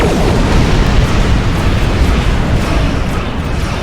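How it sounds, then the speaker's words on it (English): A spread of torpedoes fires and explodes in the space combat game Star Trek Online: a loud, dense, continuous roar of booming detonations fills the whole stretch, with no speech. "Tactical, fire a spread of torpedoes."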